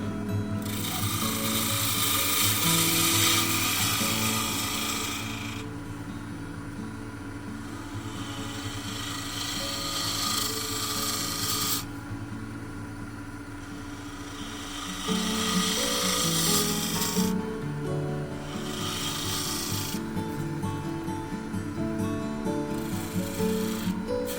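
A wooden bowl spinning on a lathe as a tool cuts away material, a loud continuous rasping hiss with a steady mechanical hum beneath, dropping quieter and returning in long passes.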